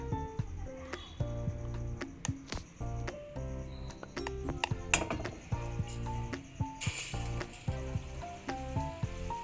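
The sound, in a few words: gram-flour-coated stuffed tomato bondas frying in hot oil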